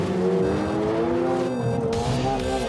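A Ferrari 296 GTB or McLaren 750S supercar pulls hard out of a corner on a fast lap, its loud engine note rising steadily through the revs in a continuous close roar; no talking.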